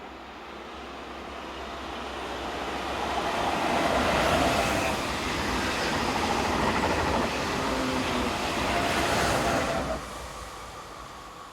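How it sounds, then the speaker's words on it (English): A TGV train set on the Paris to Milano service passes near Culoz, a broad steady rumble swelling over several seconds, holding loud, then easing off as it goes by. "This is the 629 from Paris to Milano, formed by TGV train set number"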